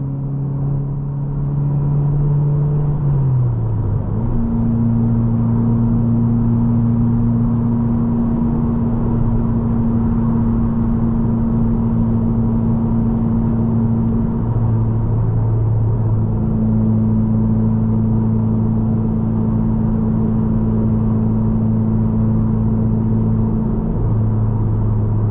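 Steady engine drone and road rumble from inside a Subaru WRX (VB) cruising at speed on a highway, with occasional gear changes shifting the pitch, continuous and fairly loud.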